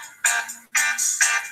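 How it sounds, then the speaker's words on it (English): A mobile phone ringtone sounds for an incoming call, three bright, repeating bursts in quick succession, close and fairly loud with no speech over it. "Sorry, my missus is trying to phone me from work."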